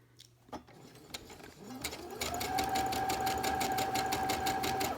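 A sewing machine stitches a face mask, starting with a few clicks and a rising whir before settling into a steady, rapid needle rhythm that runs on close and alone.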